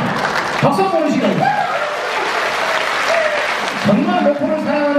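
Audience at a live recital event in Mokpo breaks into steady applause lasting the whole stretch, loud and close, with a voice speaking and laughing over the clapping.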